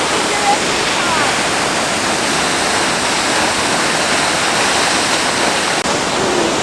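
Heavy, roaring rush of a large waterfall swollen after heavy rain, a dense unbroken wall of falling water that stays loud and steady close by throughout.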